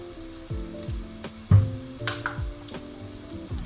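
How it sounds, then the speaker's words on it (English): Food sizzling in a hot pan while being stirred and mixed, with soft scraping knocks of a utensil and a steady frying hiss at close range, no voices. "Keep on mixing, you don't want things to burn."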